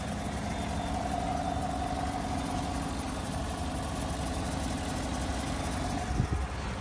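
A 2016 Chevy Tahoe PPV with its 5.3 liter V8 idling under an open hood, a steady, close, low rumble with an even hum throughout and a brief knock near the end.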